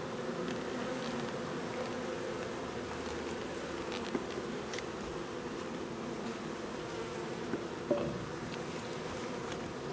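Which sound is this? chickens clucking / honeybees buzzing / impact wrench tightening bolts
honeybees buzzing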